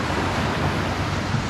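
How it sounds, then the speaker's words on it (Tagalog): Small ocean waves wash onto a sandy beach at low tide, a steady broadband hiss of surf with faint wind, no voices. "Maliliit na po yung alon."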